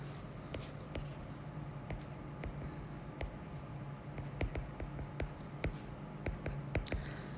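Pen strokes on a board or tablet during a calculus lesson, heard as faint, close scratching taps and short scribbles over a quiet room hum, with no one speaking.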